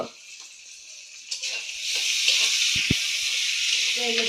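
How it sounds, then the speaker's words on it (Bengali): Fish sizzles as it is lightly fried in a pan. The sound starts with some scraping and handling, then a loud, steady frying hiss takes over for the second half, with faint voice-like traces but no clear speech. "চাকরি মাছটা কিন্তু আমি কড়া করে ভাজবো না, হালকা করে ভেজে নেবো"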